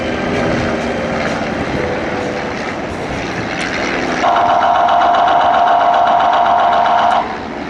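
A World War I era propeller aircraft flies past at an airshow of 1914–18 aerial combat, its engine droning steadily before a louder, buzzing tonal note swells close for several seconds and then drops away.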